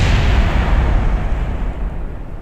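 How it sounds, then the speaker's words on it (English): A rocket blowing apart on the launch pad in the Kerbal Space Program game: a loud, sustained low rumbling roar that fills the whole clip and fades slightly toward the end, with no talk. "Oh no! Everything has exploded."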